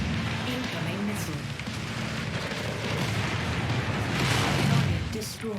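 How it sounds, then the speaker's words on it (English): Incoming missiles explode in the MechWarrior 5 video game, a continuous rumbling barrage of booms and blasts with a swell near the end, a voice speaking over the combat noise. "Incoming missile."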